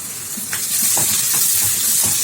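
Onions and tomatoes sauté with rock salt in a pan for an ora fish curry, giving a steady close hiss and sizzle with a few soft stirring touches.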